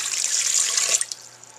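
Warm water at about 110 degrees pours steadily into a mixing bowl of sugar for a pita dough, a close, bright splashing that trails off into a few drips.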